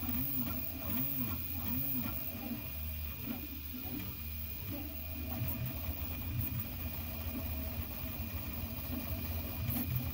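A 3D printer prints parts for a serpent, its stepper motors giving a continuous warbling, whirring drone with rising and falling tones, steady and fairly close with no talking.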